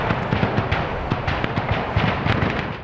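Dense, rapid volleys of gunfire crackle through residential streets during deadly clashes in Mariupol, irregular loud cracks and thuds overlapping continuously in a rough, echoing barrage.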